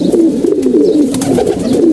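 Healthy, lively pigeons coo nearby in a rolling, continuous murmur of throaty calls with no talking.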